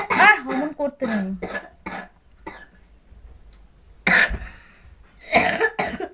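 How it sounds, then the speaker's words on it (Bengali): A person coughs heavily in several harsh, loud bursts with quiet pauses between them, and speech is mixed in among the coughs. "বাবারে বিশাল কাশি হয়েছে তো"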